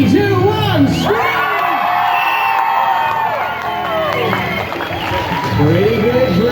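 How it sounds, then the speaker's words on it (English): A big audience at a Sea World jet ski show on the Gold Coast, Australia, screams and whoops loudly with many children's voices, a sustained roar of shrieks that dips briefly and surges again. "if you want to win, you need to make some noise. Ready? 3, 2, 1, scream!"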